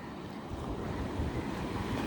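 Sea waves wash onto a beach where clams are being gathered, a steady broadband rush of surf with wind noise buffeting the microphone, continuous and fairly loud throughout with no talking.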